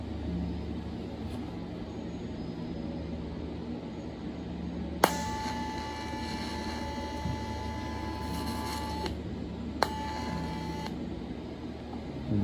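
Tack welds being struck on a steel angle block, two short bursts of sizzling, crackling arc with a steady electrical whine, separated by a quiet shop hum.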